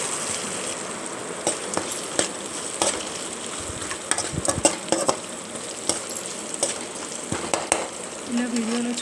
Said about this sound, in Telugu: ఇలా ఆనియన్స్ బ్రౌన్ కలర్ వచ్చే వరకు ఫ్రై చేసుకోవాలి.